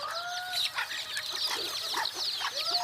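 Bantam chickens cluck and chirp close by in a steady stream of short calls, with a few rising squawks overlapping through the brief stretch.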